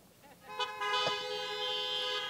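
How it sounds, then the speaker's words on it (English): A car horn honk plays as a sound effect during a medical lecture: a single sustained, bright, tonal blast that starts abruptly and holds steady for nearly two seconds, loud and clear with no talking over it. "Honk."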